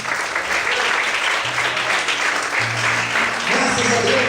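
A church congregation applauding loudly, a dense, sustained roar of many hands clapping with low tones and voices underneath.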